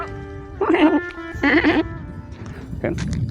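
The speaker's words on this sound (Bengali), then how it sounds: "দেখুন কত ধরনের ছাগল এখানে" Goats on a desert goat farm in Dubai give two loud, close bleats in quick succession, followed by a person talking.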